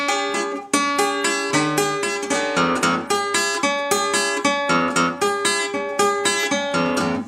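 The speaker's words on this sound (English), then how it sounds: "the key signature lick that sounds like this" Acoustic blues guitar playing a song's signature lick, a close, bright run of rhythmic picked notes and strummed chords repeating over several seconds with no talking.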